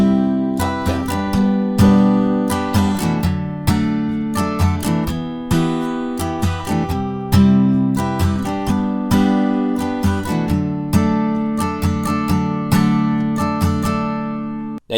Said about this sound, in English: Our strumming pattern here will be down, down, up, down, up.